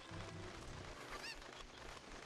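Chicken clucking in the video game Zelda: Ocarina of Time, a brief squawking cackle of a game fowl rising over a steady, noisy background, fairly faint and alone with no talk.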